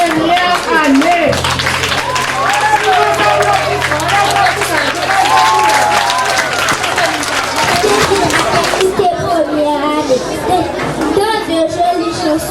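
An audience claps loudly and continuously at a school Christmas celebration where children sing Christmas songs. Dense applause mixes with crowd chatter and voices, thins briefly near the end, and a low hum sits underneath.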